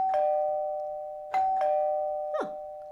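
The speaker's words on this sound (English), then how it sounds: "Was that the doorbell?" A two-tone doorbell chimes in a home kitchen, ringing several times in succession with clear ding-dong tones that ring on between presses.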